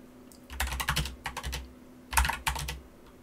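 Quick bursts of key clicks on a computer keyboard while entering program code, in irregular clusters with short pauses, close and fairly quiet.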